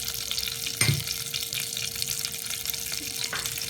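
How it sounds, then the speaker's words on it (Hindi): Vermicelli and cardamom roasting in ghee in a pan for sheer khurma, an Eid sweet dish, giving a steady soft sizzle with a brief stir or clink near the start, close and alone. "घी डाल के सेवइयाँ और इलायची को भून लेंगे।"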